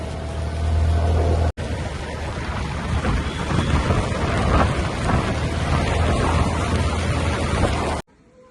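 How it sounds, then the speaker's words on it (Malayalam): Heavy rain pours down at Aguada Fort in Goa in a steady, loud roar, with a brief break near the start before the downpour resumes and then cuts off. "നല്ല മഴയാണ്"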